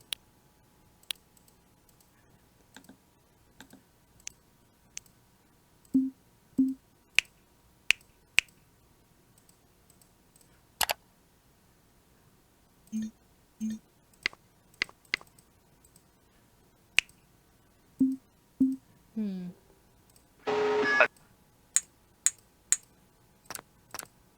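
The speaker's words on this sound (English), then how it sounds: "Audio clicking sound." Sharp, dry clicks picked from a sound effects library for a video game, sounding as scattered single snaps and taps at an irregular pace, with one brief buzzy burst near the end.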